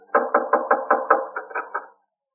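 Pounding on a door in an old radio drama, about nine heavy, evenly spaced knocks in a quick run, loud and close with nothing else around them.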